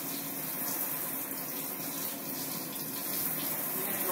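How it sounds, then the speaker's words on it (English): Tap water runs steadily for a surgical hand scrub rinse, a continuous close hiss and splash with no talking over it. "Alright, and you're going to rinse off."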